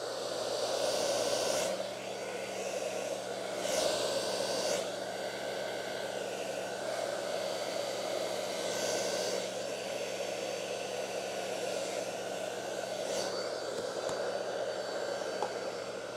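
A hair dryer runs steadily nearby while drying sealed linen, a constant airy whoosh with a faint motor hum, swelling slightly as it moves across the fabric.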